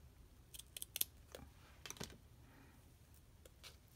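Scissors cut a piece of card paper while a rustic handmade thank-you card is being made. A handful of quiet, close snips and crisp paper sounds come at irregular intervals over a faint background.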